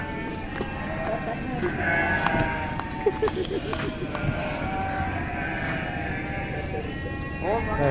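Sheep bleat on a sheep farm amid steady crowd-like background noise, several overlapping calls rising and falling at moderate distance.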